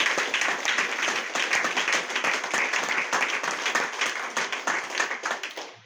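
Audience clapping at a Hindi motivational talk, a dense, steady wash of many hands that holds evenly for about six seconds, close and fairly loud with no voices over it.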